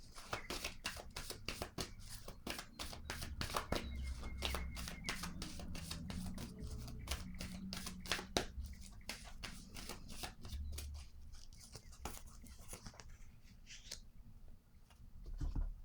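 A deck of tarot cards being shuffled repeatedly, with rapid riffling bursts and soft slaps close by, continuing steadily with no talking.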